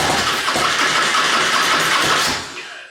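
A Harley-Davidson Road King engine cranks on the starter after starter fluid is sprayed, a loud continuous whirring and chugging that fades out after about two and a half seconds, with no talk.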